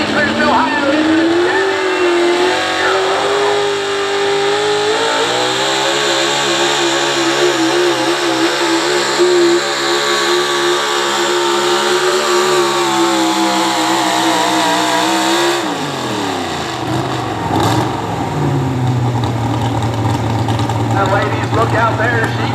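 A pulling truck or tractor engine roars hard at a Southeastern Ohio truck and tractor pull, climbing and holding a loud sustained drone for about fifteen seconds before cutting off, with an announcer talking over it.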